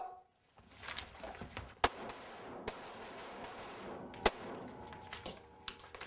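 Pistols fire during an extreme close-quarters shooting drill. A few sharp gunshots ring out at spaced intervals over background scuffling and movement.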